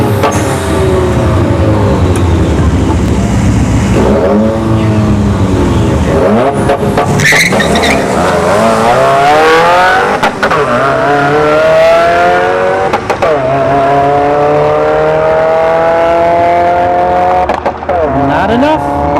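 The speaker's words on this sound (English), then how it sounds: "So the CLK 550 here in the right lane, and the Subi WRX in the left." A Mercedes CLK 550 and a Subaru WRX drag racing at a dragstrip, loud engines revving and climbing through gear changes, with an announcer talking over the roar.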